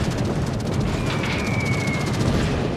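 Anti-aircraft flak bursts from the Midway's defensive fire in World of Warships, a dense, continuous rumbling barrage of booms and pops with a faint whistling tone passing through the middle.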